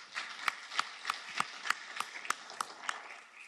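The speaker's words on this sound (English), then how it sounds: "I wish Simon could hear the claps" Sparse audience clapping after a keynote presentation at the International Seapower Symposium, about a dozen distinct claps in an even rhythm, quiet and somewhat distant in a large hall.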